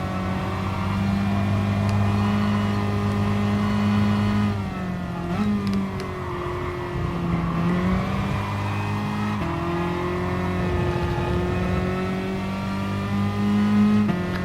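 A Tesla Model S electric car races in the Gran Turismo video game, its steady synthetic motor whine climbing in pitch and then dropping back at a few shift points, loud and continuous throughout.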